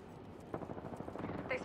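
Gunfire in the battle royale game Apex Legends, a quick run of several faint mid-range shots fired in rapid succession, with a sharp ring at the end.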